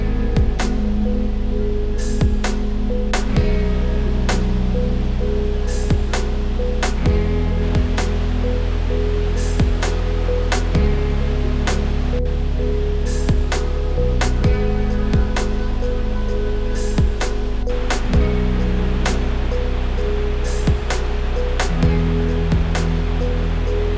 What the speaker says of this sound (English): Behind me you can see the beautiful Wulai Waterfall.